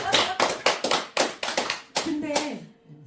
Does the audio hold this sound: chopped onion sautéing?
no